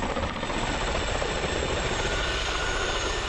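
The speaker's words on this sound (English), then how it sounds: "The Chinook, with its massive 60-foot rotors, was intended to carry very large payloads" A CH-47 Chinook helicopter's heavy twin rotors and engine roar, loud and steady throughout with no pauses.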